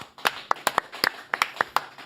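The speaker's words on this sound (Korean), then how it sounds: "박수로 맞이합니다." A few pairs of hands clapping in a loose, uneven rhythm, close by and fairly sparse rather than a full crowd's applause, welcoming a speaker at a Korean political talk event.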